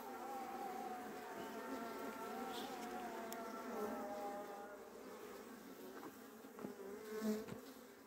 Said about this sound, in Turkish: Bunun içinde arı var.